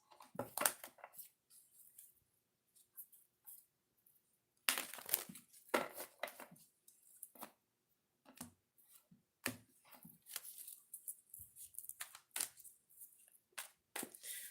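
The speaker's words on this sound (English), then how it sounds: "let's do some shuffling" Oracle cards being shuffled by hand, giving soft, irregular papery riffles and slides in scattered bursts, fairly faint and close, with no talking.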